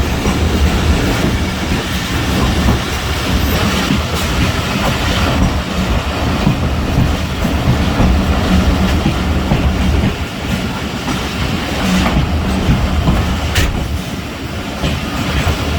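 The Jaffar Express, running from Peshawar to Quetta, passes on a cold, foggy day with a loud, continuous rumble and clatter of wheels on rail joints, close by and steady throughout, with faint squeals.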